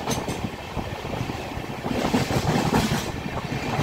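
A passenger train pulling out of Dornakal Junction rumbles and clatters steadily from inside a coach, its wheel noise building slightly in loudness over a few seconds with no voices.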